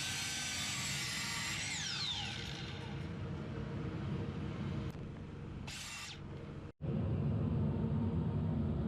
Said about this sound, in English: So here I just use the chop saw to cut these into small pieces.